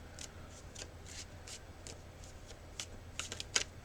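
A Connolly tarot deck being shuffled by hand produces quiet, irregular papery riffles and soft taps in short bursts, close and faint, with a sharper flurry near the end.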